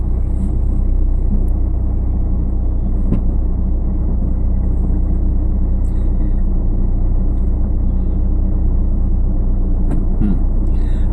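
A car engine idles with a steady low rumble while the car is put into reverse during a driving lesson. The sound is constant and close for about eleven seconds, with a few faint clicks and no speech.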